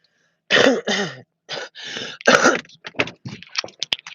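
A person clears their throat several times in a row, rough, raspy bursts close up, tapering into shorter hacks and grunts.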